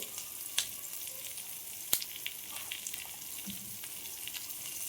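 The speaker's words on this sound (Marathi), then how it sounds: "आता मी तेलात मच्छी छान आता फ्राय करायला टाकून दिले" Fish pieces fry in oil over a low flame. A steady, even sizzle continues throughout, with two or three sharp spattering pops standing out, and no voices.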